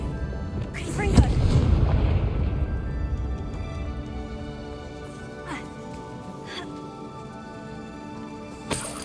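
Confringo fire-blast spell in the video game Hogwarts Legacy, a sudden deep booming burst that rumbles and fades over a few seconds, with fainter crackles and pops and a late sharp hit.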